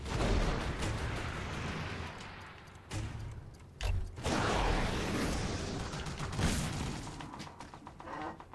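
Artillery fire in Toy Soldiers: Cold War, a dense, continuous barrage of heavy booms and blasts, loud and close, with brief gaps between volleys.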